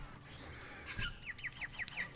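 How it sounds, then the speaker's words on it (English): Outdoor birds chirping in the background, a quick run of five or six short, bright tweets at an even pace, faint and somewhat distant. "some birds in the background,"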